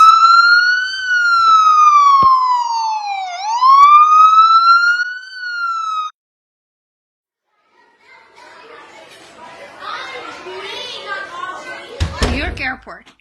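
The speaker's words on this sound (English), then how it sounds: "The only sound was the relentless wail of ambulance sirens." Ambulance siren wailing through deserted Manhattan streets, a loud rising and falling tone for about six seconds that then cuts off, followed by faint street sounds and distant voices.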